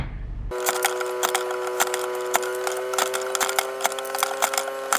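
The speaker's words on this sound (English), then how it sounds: "line up where I want to cut it and cut so I can fit it on the mug" Paper photo being cut to size for a mug on a crafting machine: sharp clicks and ticks over a steady hum, close and fairly loud, with no talk.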